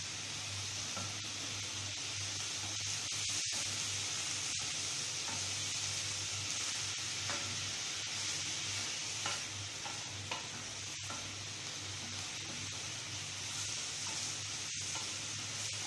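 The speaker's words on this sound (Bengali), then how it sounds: "আমি 10 মিনিটের মতো ভেজে নিয়েছি" Grated carrots for carrot halwa fry in a pan, a continuous close sizzle under a low hum, with intermittent scraping strokes of a stirring spoon and no talking.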